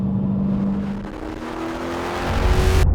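An American land-yacht car accelerating hard, its engine note climbing steadily in pitch through the gears into a loud, close roar with rising rushing noise, heard alone.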